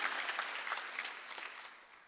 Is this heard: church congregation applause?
yes